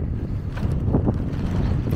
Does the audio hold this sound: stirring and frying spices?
no